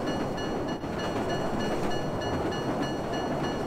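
A subway train in the graffiti video game Marc Ecko's Getting Up pulls into the station as a steady, dense rumble of rolling wheels and rail noise that holds constant and fairly loud throughout.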